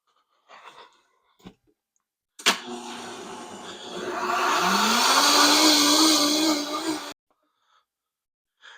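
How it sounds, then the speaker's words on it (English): A blender runs with hot soapy water inside for cleaning after a chicken shake, starting abruptly and whirring loudly for about five seconds, its motor pitch climbing as it spins up, then cutting off, with faint bumps before. "I'm going to put it back on the blender and run it with soapy water in it"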